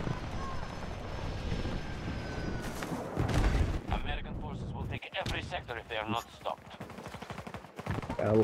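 Machine gun fire crackles in Battlefield 2042 amid aircraft and helicopter engine noise, with bursts of rapid shots under frequent player talk.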